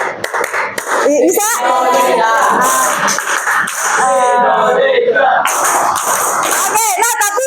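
An eighth-grade class at a Jakarta junior high school claps rhythmically in the style of Indonesian football supporters, loud and close, mixed with shouted, chanting voices and a teacher speaking.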